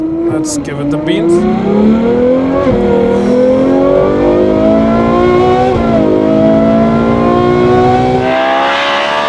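Revving hard, a full-carbon Novitec Ferrari 812 N-Largo S V12 screams loud and close through long climbing pulls, briefly dipping before climbing again, then cutting off near the end.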